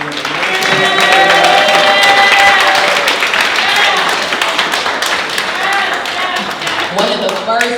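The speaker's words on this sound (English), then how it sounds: "Let's give them a round of applause" Loud crowd applause at a small business awards event in Warren County, North Carolina, with clapping mixed with voices and cheers throughout.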